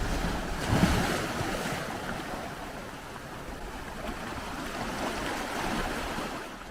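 Sea waves wash steadily onto a British fossil-hunting beach at high tide, a continuous surf roar mixed with wind buffeting the microphone, no voices.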